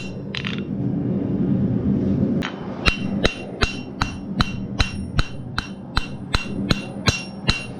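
Hammer blows forging the bevel on a knife made from a horseshoe, about a dozen sharp ringing metal strikes in a steady rhythm, loud and close, after a stretch of lower background rumble.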